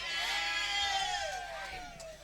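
A cow bellows in one long, drawn-out call that rises and then sags, heard fairly close over a steady hum of noise outdoors in a village.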